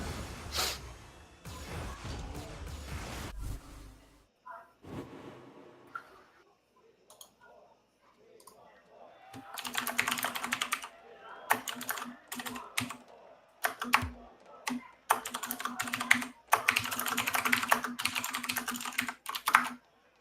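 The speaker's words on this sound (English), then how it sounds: "And that, ladies and gentlemen, is the sound of a man's keyboard." Mechanical computer keyboard typed in bursts of rapid clicks during a gaming session, fairly close and clear, with pauses between runs and no talk over it.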